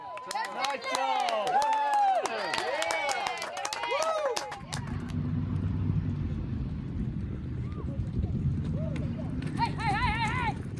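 Horses at a kids' weekend rodeo clop and run on a ranch as a crowd cheers and claps in the open air, while a voice talks over the sound. Music plays at the start.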